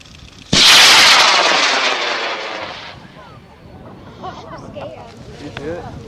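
A model rocket on a J350 composite motor ignites with a sudden loud roar that quickly tapers into a fading rumble over a few seconds as it climbs away, followed by quieter ambient sound and faint voices.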